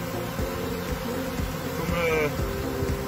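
A steady, close buzzing of many honeybees in a swarm entering a hive, continuous and moderately loud, with faint background noise.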